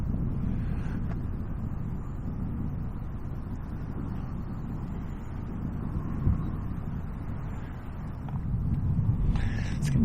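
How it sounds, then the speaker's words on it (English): Strong upstream wind buffets the microphone on the banks of the River Avon, a steady low rumbling roar that swells slightly near the end, with no talking. "This upstream wind is actually a lot stronger than I realised."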